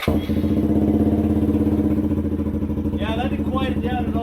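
A Suzuki VanVan 200 motorcycle with a new exhaust idles steadily and loudly, baffle in, its low rumble constant throughout, with a voice speaking over it near the end.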